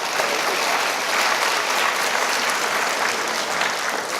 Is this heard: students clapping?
yes